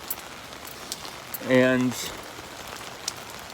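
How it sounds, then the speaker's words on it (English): Rain falls outside, heard from inside a flat through an open window, a steady fine patter with scattered drip ticks throughout, and a single short spoken word cutting in briefly midway. "I like to listen to the rain when I'm inside my flat with the window open"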